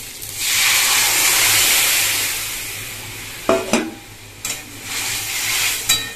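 Mung dal lentils tipped into a pan of fried ginger-cumin paste, a loud sustained sizzle and hiss that fades, then a few clanks and stirring scrapes before the frying swells again.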